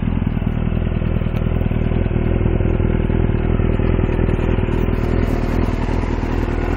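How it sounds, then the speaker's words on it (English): A Yamaha R6 sport motorcycle engine runs with a loud, steady, close-up drone that holds an even idle throughout, with no voices. "That's a nice bike."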